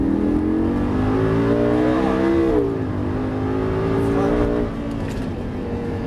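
A Lamborghini LP 560-2 on the Dreux circuit under full throttle, its engine droning loud and close with rising and falling pitch as it pulls, a brief dip midway, and a slight drop in level near the end.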